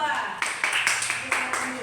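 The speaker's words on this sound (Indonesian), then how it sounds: "Tepuk tangan untuk kelompok 2." Students in an Indonesian primary classroom clap for a group that has just presented, a short burst of roughly even, rhythmic claps with some voices mixed in.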